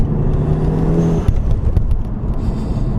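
A VW MK7 GTI fitted with a CTS blow-off valve drives in freezing weather, giving a steady, close engine drone with a brief whooshing burst partway through and a couple of sharp transients.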